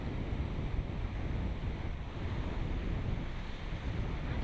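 A cool sea breeze and waves at Galle Fort, Sri Lanka, near the Star Bastion, make a steady, loud, unbroken roar of wind buffeting and surf with no talking.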